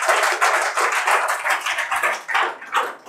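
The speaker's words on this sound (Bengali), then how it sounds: "জোরে হাততালি।" An audience in a coaching-centre welcome ceremony claps loudly and continuously, a dense rattling applause with swelling and fading bursts, close and without speech.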